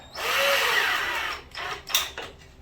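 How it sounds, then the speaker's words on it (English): Power drill backing a screw out of a wooden hardtop stand built for an MG F or MG TF sports car, a steady whirring drive followed by short uneven bursts as the screw loosens, close by with no talk. "I'll just unscrew that a bit, pull it across, check it on the mark"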